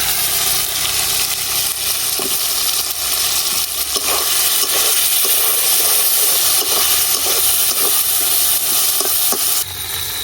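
Cut white eggplant pieces hitting hot mustard-spice paste in a pan, a loud steady sizzle and hiss with faint clinks, no voices.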